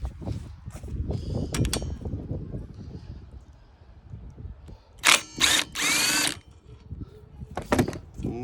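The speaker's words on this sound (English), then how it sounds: "Just going to remove these bolts, or nuts should I say." A power tool undoes the nuts holding a car's wheel speed sensor, with several short loud whirring bursts near the end, preceded by rattling, clanking workshop handling and soft background noise.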